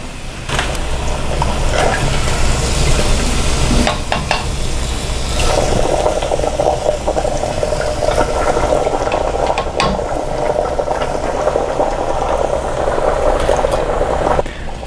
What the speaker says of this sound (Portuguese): Então vou terminar de fritar todos os discos